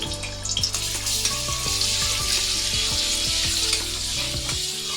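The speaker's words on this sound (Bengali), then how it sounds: "তো প্রথমে কড়াতে আমি সামান্য একটু সাদা তেল দিয়ে দিলাম, ওর সাথে দিয়ে দিলাম খানিকটা বাটার" White oil and butter sizzle steadily in a kadai, a continuous close hiss and crackle with occasional clinks from the pan, and no voices.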